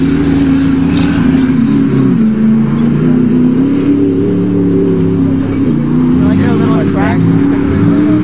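Engines roaring as cars race on a track, a new Ford 5.4 truck against a 1994 Buick 3.8, loud sustained revving with shifting pitch up close, with people talking over it.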